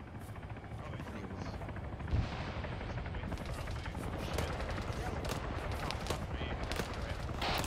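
Machine gun fire crackles in bursts in an Arma 3 battle alongside a steady helicopter drone, moderately loud, with voices talking over the action.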